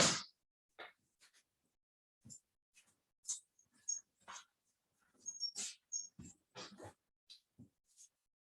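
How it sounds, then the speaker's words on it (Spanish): A dog moving about a room, giving soft whimpers and small yelps in scattered short bursts amid shuffling and scraping noises, fairly close by. "tengo que sacar al perro porque este se coló"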